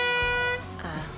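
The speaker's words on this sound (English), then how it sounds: "you don't want to use your air horn at the golf tournament." A short, loud air horn blast sounds for half a second, then cuts off, followed by a brief voice.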